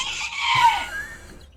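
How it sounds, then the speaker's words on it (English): A lone seagull screeches once, a brief rising and falling cry heard against a quiet background. "the rest of you just hear a screeching of a seagull"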